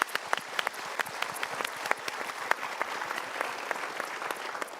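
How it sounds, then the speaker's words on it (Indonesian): A studio audience applauds at a televised motivational talk show, a steady dense wash of many hands clapping with sharp individual claps standing out, no voices over it. "Kita berikan tepuk tangan dulu"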